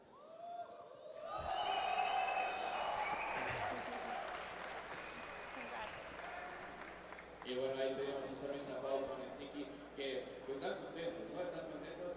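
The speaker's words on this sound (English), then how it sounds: "Sneak Mustang is muy guapo with the amount of whistles and cheers from the crowd there" A large crowd whistles and cheers at the Gears of War Pro Circuit Mexico City Open 2019 esports event. The noisy roar swells and stays loud, with shrill whistles and bursts of applause rising over the din.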